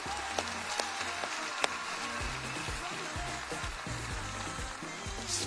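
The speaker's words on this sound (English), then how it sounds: "Let's give our performers another round of applause." An audience claps for performers at a county State of the County address: a dense, steady wash of applause runs throughout, with a voice faintly underneath.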